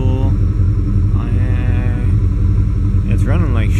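A GM throttle-body-injected engine from 1987 to 1995, running rich and throwing code 45, idles with a loud, steady, slightly uneven rumble close by while people talk over it.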